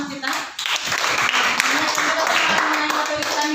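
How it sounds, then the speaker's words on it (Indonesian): Classroom applause for a classmate, a lively burst of students clapping together in a room, with voices talking and calling out underneath. "Oke, tepuk tangan untuk teman kita."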